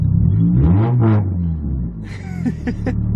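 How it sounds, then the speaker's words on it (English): Car exhaust rumbling and revving in a driveway with the trunk open, a deep, loud low growl rising and falling across two revs, joined near the end by lighter rattling and clattering sounds. "driving around in the driveway and revving with your trunk open so you can hear your exhaust so good"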